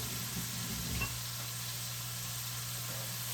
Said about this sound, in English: We're just going to take it and we're just going to stir it around.